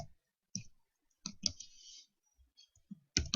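Java code being typed on a computer keyboard: sparse, irregular clusters of sharp key clicks separated by short pauses, close and fairly quiet, with no voices.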